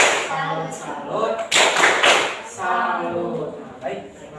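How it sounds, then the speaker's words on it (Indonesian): Classroom applause for a pupil in a Year 5 science lesson, with a burst of hand clapping from the class mixed with voices and chatter throughout. "tepuk salut untuk Ciko"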